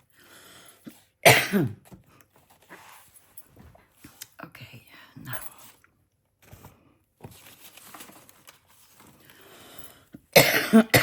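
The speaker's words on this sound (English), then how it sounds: "I'm sorry for the coughing." Two bursts of harsh coughing, one early and one at the end, separated by quiet murmuring and soft rustling close to the microphone.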